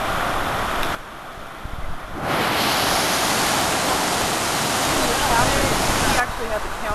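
Floodwater pours over a collapsed road where the pavement has dropped off near a main gas pipe, a loud, unbroken roaring rush like a waterfall that briefly dips before surging back to full strength.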